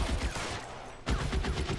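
Gunfire in the video game L.A. Noire: bursts of shots crackle across the first second, drop to a brief lull, then resume as rapid, loud volleys.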